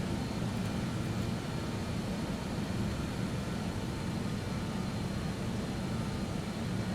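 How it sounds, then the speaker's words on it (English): Engines of a BAE 146 freight aircraft drone as a steady broadband roar while the throttles are pulled back, even and unbroken throughout, with no voices. "we will now throttle back our throttles"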